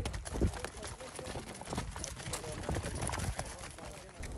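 Hooves of pack donkeys carrying cooking gear and baggage on a steep desert trail near Tamrit, a scattered clip-clop of steps with outdoor noise and no talking.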